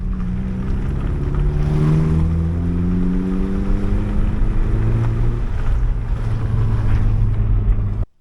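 A car exhaust rumbles loudly and continuously with rising and falling engine pitch as the vehicle accelerates, ending abruptly.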